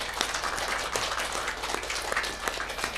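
Audience at an evening Islamic study gathering clapping for Pak Sutopo, a soft, fairly distant patter of scattered hands that stays even and low throughout.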